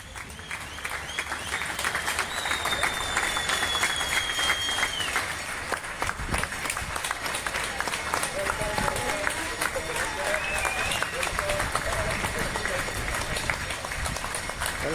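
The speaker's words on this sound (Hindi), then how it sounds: "बच्ची के घर के आसपास रहने वालों ने तालियां बजाकर बच्ची का स्वागत किया" Neighbours outdoors clapping to welcome home a young girl after her recovery, a steady group applause with scattered individual claps and people talking underneath.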